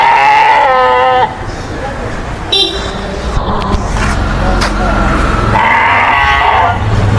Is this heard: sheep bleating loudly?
yes